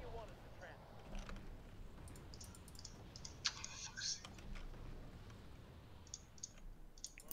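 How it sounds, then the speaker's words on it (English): Computer keyboard clicking carries over a voice chat during a live Wargame Red Dragon session, a soft scattered patter of keystrokes beneath a low hiss and muffled voices. "Can you genuinely still hear the clicking?"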